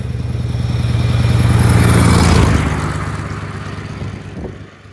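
A supercharged 27-litre V12 engine in a Rover roars at high revs, swelling and then easing down, loud and close, with a sharp mechanical clunk near the end.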